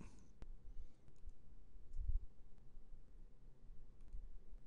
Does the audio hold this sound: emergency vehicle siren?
no